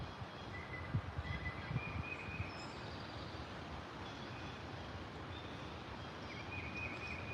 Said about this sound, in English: Take a second to listen to the birds for a second, y'all.